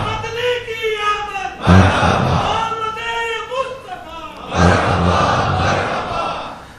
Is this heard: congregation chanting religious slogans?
yes